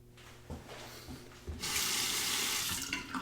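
Hot water runs from a tap to rinse a Dovo Primo double-edged safety razor, starting as a quieter trickle with small clinks before the flow opens up into a steady, loud broadband gush.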